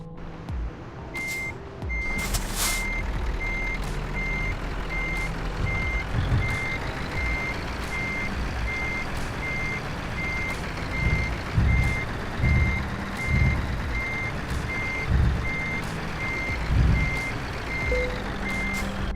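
A truck in the Euro Truck Simulator 2 game reverses with a steady series of evenly spaced electronic beeps over low engine rumble, clear and continuous throughout, with a brief air hiss near the start.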